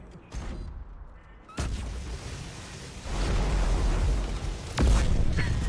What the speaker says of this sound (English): I feel like that was the juiciest Atlas explosion I've ever heard